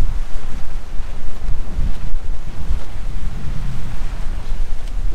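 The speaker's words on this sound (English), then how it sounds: "the wind's on today" Strong wind blowing across a kitesurfing beach in Bravo, Philippines, a loud continuous roar buffeting the microphone with a low rumble of surf underneath, no voices.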